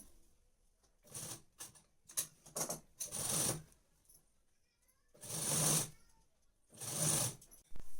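Sewing machine stitching net fabric in short bursts: brief rapid mechanical whirring runs, a few of them longer, separated by quiet pauses, close and clear.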